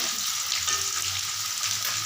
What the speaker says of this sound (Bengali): ভালোভাবে আলুটাকে ভাজা করে নেব।